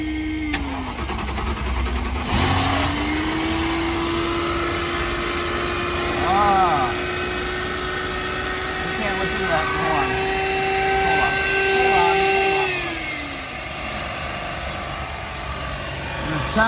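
A wrecked 2010 Mercedes E550 V8 is cranked and fires up, then idles on all eight cylinders with a steady hum, rising and falling whine from a troubled belt system and faint squeals over the running engine.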